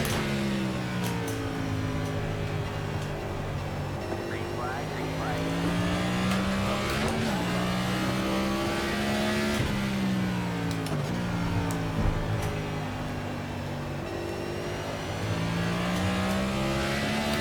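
Race car engine in the iRacing sim, a Street Stock or NASCAR Cup car revving up and down through the gears in repeated rising and falling sweeps, loud and continuous, with occasional tire noise.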